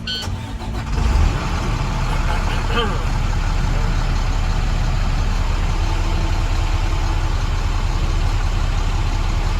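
A Class A truck's diesel engine cranks and catches with a short burst of noise, then settles into a loud, steady idle rumble inside the cab.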